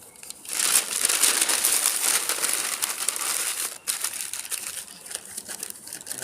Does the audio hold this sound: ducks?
no